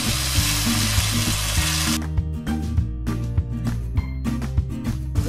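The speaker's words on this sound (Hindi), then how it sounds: "हमने देखा ये चिकन गल गई है और इसे थोड़ा सा हमने भून लिया है।" Ginger chicken frying in oil in a pan, a constant loud sizzle with rhythmic stirring knocks of the spoon against the cookware, close up; the hiss cuts down sharply partway while the clunking stirring continues.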